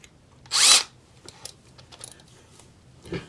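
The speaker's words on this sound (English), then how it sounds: "I'm going to try and chuck this up in my drill, and we'll see how this turns out," A power drill is used on a small part for a Decoder Buddy Tiny install, with one short loud whir near the start followed by faint clicks and handling noises.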